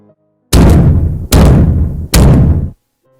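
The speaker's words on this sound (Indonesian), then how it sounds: "Suara semua pintu dan jendela warung yang terbanting dan menutup dengan sendirinya." The doors and windows of a roadside food stall slam shut one after another: three loud, heavy bangs, each booming and trailing off over nearly a second, with short silent gaps between them.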